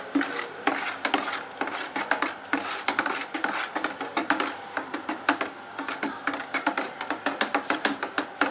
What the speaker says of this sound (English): So after adding, I'll have to stir it